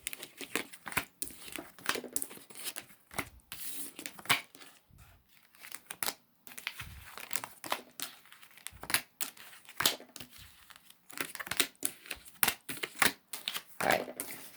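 Tarot cards being shuffled and drawn at close range, giving a run of quick papery crinkles, flicks and taps with brief pauses and no talk.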